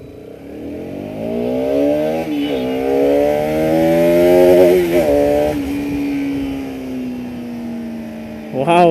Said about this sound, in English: The exhaust note is damn nice on RS200, man.